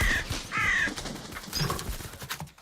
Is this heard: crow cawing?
yes